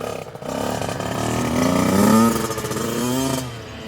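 A small motorbike ridden by a 12-year-old learning clutch control, held in first gear, its engine droning and rising in revs steadily throughout, fairly close and continuous with no talk.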